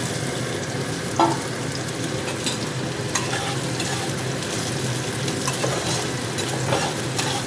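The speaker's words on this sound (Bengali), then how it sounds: "তেলটা গরম হয়ে গেছে, পেঁয়াজ কুচিগুলো দিয়ে দিচ্ছি।" Chopped onions fry in hot oil in a kadai, a continuous dense crackling sizzle with faint stirring clinks, close up and without any voices.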